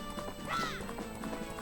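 Rapid clip-clop of the horse Epona trotting in The Legend of Zelda: Majora's Mask, with a short rising whinny partway through, sitting faintly under game sounds.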